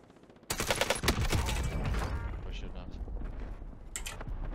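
Rapid video game gunfire bursts out loudly after a quiet start, a dense volley of shots followed by sustained, slightly weaker firing and clatter, with a player's voice talking over it.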